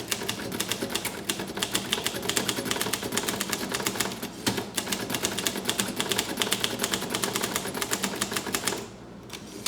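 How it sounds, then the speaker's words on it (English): Rapid, steady typing on a Groma Kolibri ultra-portable manual typewriter, its crisp keystrikes close and loud throughout, stopping just before the end. "It is a magnificent typing machine."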